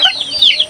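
Chickens waiting to be fed give a short, close, loud burst of clucking.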